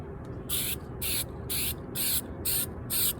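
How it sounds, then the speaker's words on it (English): A spray paint can hisses in six short, evenly spaced bursts, quiet and close, with brief pauses between each pass. "And then this stuff, just spray paint over it."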